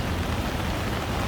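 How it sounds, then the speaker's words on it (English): Heavy rain pours down in a New York City street, a dense, unbroken hiss that stays loud and even throughout with no voices. "It's raining."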